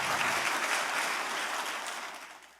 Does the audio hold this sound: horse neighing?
no